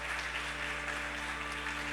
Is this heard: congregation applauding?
yes